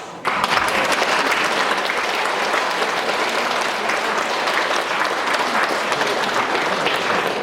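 Sustained, loud audience applause from a large crowd at a 2017 gathering, dense and steady from start to finish after a brief quieter opening.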